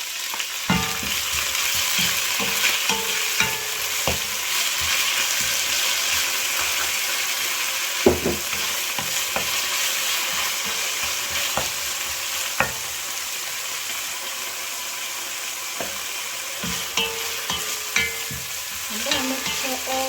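Spring onions and other vegetables frying in a pan for a Congolese spinach and fried fish dish, with steady loud sizzling broken by repeated scraping and clattering strokes of stirring.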